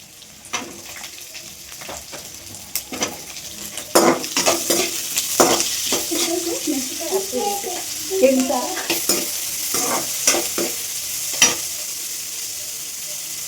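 Onions frying with a steady sizzle in a pan while a spoon scrapes and stirs, up close, with occasional utensil knocks and no talking.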